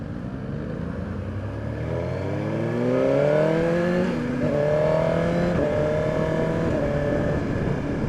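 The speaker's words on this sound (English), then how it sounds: "Oh, that quick shifter feels so good." A Suzuki GSX-R1000R sport bike with a 999cc inline-four accelerates hard, its engine note climbing steadily and briefly dipping at quick-shifter gear changes before rising again, steady and close with no talk.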